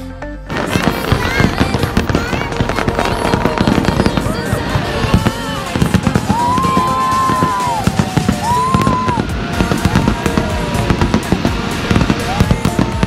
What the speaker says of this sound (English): we just watched the fireworks